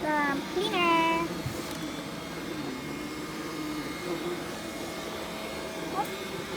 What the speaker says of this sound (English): This is a robot cleaner.